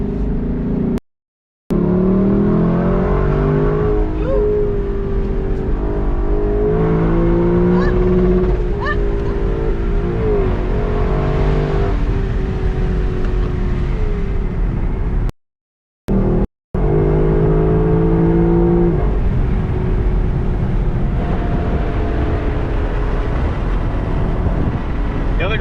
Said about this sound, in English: I love how that sounds. They did such a good job with the exhaust